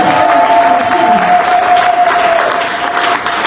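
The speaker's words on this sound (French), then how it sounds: "On acclame pour le Seigneur." A church congregation at a worship service claps loudly and continuously, with crowd noise and a sustained held tone running through, dense and close.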